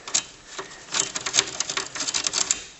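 A tool undoes the bolts holding the CRT in a TRS-80 Model 3 computer, a close run of quick, irregular ratcheting clicks and metallic taps.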